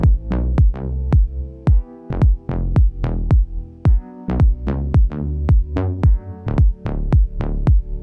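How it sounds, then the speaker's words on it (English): Melodic synth bass line of short plucked notes, doubled by a sub bass sounding the same pitches, in a steady rhythmic pattern, loud and alone with no voice. "this bass is really playing a melody on its own, and it gets supported by the sub bass, which plays exactly the same notes"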